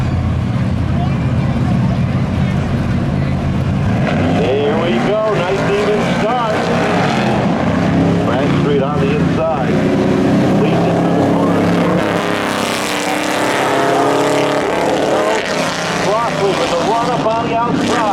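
Drag race cars roar off the line together and keep racing at a spectator drag event, a loud continuous engine howl with shifting pitch, while an announcer talks over it throughout.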